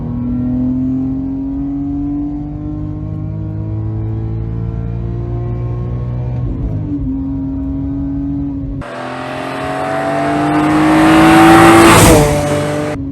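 BMW M3 E46 with a six-cylinder engine accelerating hard, a loud, rising engine drone that climbs through the gears with a brief dip at a shift, then swells louder near the end.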